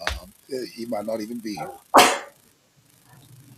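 One loud, sharp sneeze comes right after someone speaks a short line on a morning radio show, followed by near silence and a faint low murmur.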